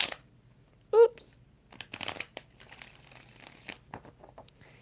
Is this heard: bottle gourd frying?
no